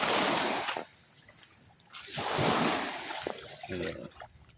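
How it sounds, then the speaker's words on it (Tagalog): Surf washing in, swelling loudly, easing off, then rising again as another wave breaks, with a steady hiss of water throughout and no voices. "Yan po, malakas ang alon."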